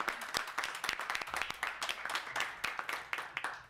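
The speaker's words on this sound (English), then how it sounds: "Let's give them a round of applause too." A modest crowd at a schools announcement gives a round of applause, with sharp, distinct claps standing out from a thinner clatter and keeping up a lively, uneven rhythm from start to finish.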